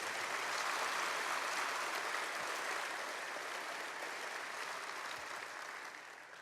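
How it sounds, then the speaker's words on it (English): An audience at a public service awards ceremony gives sustained applause for its sponsors, a steady, fairly distant roll of clapping that fades slightly toward the end. "Please join me in giving them a well-deserved round of applause"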